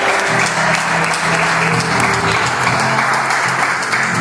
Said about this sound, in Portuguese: E se isso vale aplauso, então aplauda ao Senhor